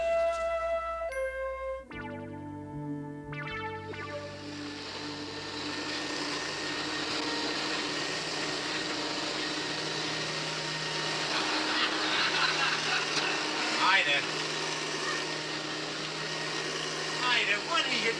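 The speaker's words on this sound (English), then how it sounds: "I'm vacuuming the rug." A vacuum cleaner runs on a rug in an old sitcom scene, a loud continuous motor whine holding steady after a few chime-like tones at the start, with voices talking over it.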